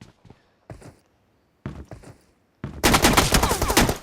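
Gunfire in a video game: sparse single shots and short bursts at first, then a dense, loud rapid-fire volley over the final second and a half.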